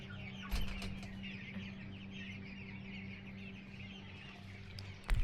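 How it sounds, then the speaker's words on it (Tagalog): Chickens cluck repeatedly in short bursts at a farmhouse over a low steady hum, with a couple of louder knocks near the start and end. "Dito pala yung mga manok."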